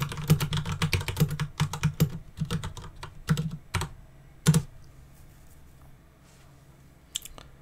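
A command typed on a computer keyboard: quick, close, clicky keystrokes in rapid runs for several seconds, then a few spaced taps and a final press after a pause.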